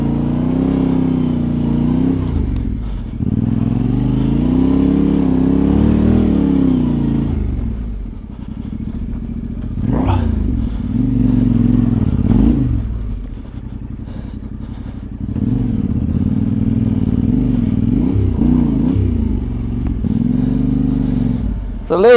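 A Yamaha Tenere 700 adventure bike rumbles loudly through off-road whoops, its engine surging and dropping as it rises and falls over the bumps, with rattling and clatter from the ride; a rider talks at times over it.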